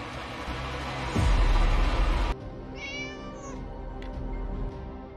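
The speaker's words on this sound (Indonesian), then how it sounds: "diputar rekaman suara kucing meong-meong untuk mengalihkan perhatiannya" A cat meows a few times, slightly tinny and sounding like a playback, following a loud low rumble at the start.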